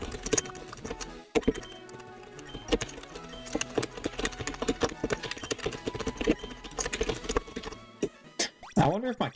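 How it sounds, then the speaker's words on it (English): Rapid clacking of a loud computer keyboard during a Pokémon Fire Red speedrun, irregular bursts of keystrokes running throughout under intermittent talk. "I wonder if my keyboard is loud."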